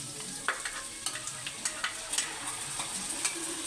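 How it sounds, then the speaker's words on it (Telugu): Spice paste for potato masala curry frying and simmering in a pan, a continuous bright sizzle with small scraping stir clicks scattered throughout, close and steady. "పేస్ట్ వేసుకున్నాక ఒక 10 నిమిషాలు దాన్ని మగ్గనివ్వాలి"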